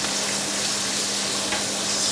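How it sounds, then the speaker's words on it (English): Bacon and onion fry together in a pan, giving a steady, close, even sizzle with a constant crackle and no pauses. "we're going to put our bacon in with the onion. So once again, we let this fry."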